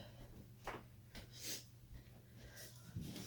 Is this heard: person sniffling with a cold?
yes